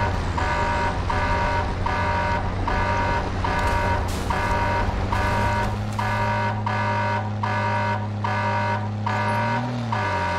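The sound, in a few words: landmine proximity beeping from a video game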